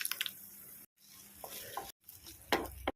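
Ginger-garlic paste, turmeric, salt and tomato paste fry in a pan for an ivy gourd curry. Close, crackling sizzles and scraping stirs come in short bursts broken by sudden silent gaps, with no talking.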